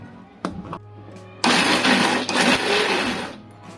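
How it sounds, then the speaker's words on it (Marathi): A kitchen mixer grinder whirring loudly as it grinds peeled peanuts for a dry spice mix, with two short pulses first and then a steady, close grinding run of about two seconds. "मिक्सरच्या भांड्यात शेंगदाणे टाकून झाले आहे। आता आपण बारीक करून घेऊ।"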